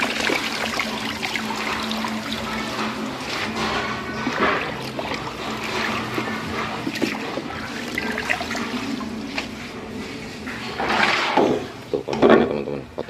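Water splashes and trickles steadily as dirt is rinsed out in a breeding setup, a close continuous wash that swells into louder sloshing bursts near the end, with no talking.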